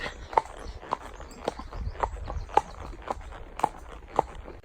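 A horse walks along a bridle path on a solo hack, hooves striking in a steady, evenly spaced clip-clop, close and distinct over a low outdoor rumble.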